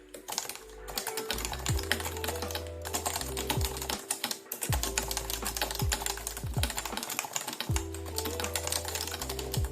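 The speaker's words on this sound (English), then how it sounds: "Let me just type." Typing on a Leopold FC660C keyboard with Topre switches: a steady run of close, soft, light keystrokes in quick bursts, with a few heavier thocks and short pauses.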